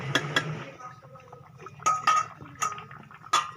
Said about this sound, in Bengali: দিয়ে ভালো করে একবার তরকারিটা নাড়িয়ে দেওয়া হবে